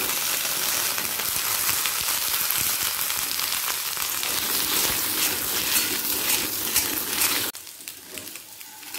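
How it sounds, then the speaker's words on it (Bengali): Potato and taro pieces fry in mustard oil in a pan over a medium-high flame, giving a steady, close sizzle that drops off abruptly near the end. "প্রথমে আলু আর কচুটাকে একটু ভেজে নেব।"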